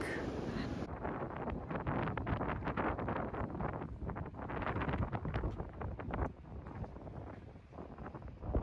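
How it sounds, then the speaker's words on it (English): Strong wind buffets the microphone in steady, roaring gusts for several seconds, with no voices. "the weather was way too windy"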